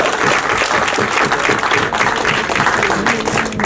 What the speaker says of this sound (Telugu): గట్టిగా ఒకసారి చప్పట్లు పెడితే బాగుంటుంది